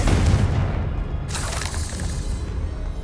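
Confringo fire spell bursting in the video game Hogwarts Legacy: a loud, booming blast with a heavy low rumble and a second bright crackling burst partway through, with no voices.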